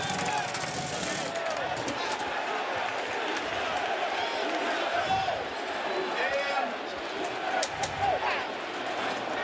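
A baseball stadium crowd roars after a home run in the bottom of the first inning, a broad sustained cheer under a commentator's voice, with scattered claps and shouts.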